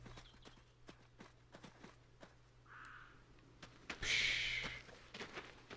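A horse walks at a steady pace, its hooves clip-clopping in an even rhythm at moderate distance, with a low hum beneath and a brief burst of other noise near the end.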